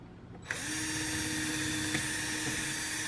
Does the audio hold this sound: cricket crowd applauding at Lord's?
no